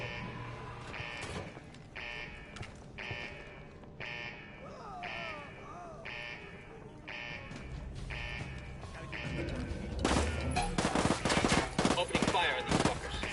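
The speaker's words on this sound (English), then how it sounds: "Opening fire on these fuckers." Gunfire in the video game Ghost Recon, a steady run of shots under music and effects that grows into dense, loud bursts near the end.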